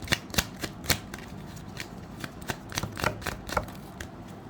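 Tarot cards shuffled by hand in quiet, close, crisp riffling bursts that repeat in an uneven rhythm, with no talk.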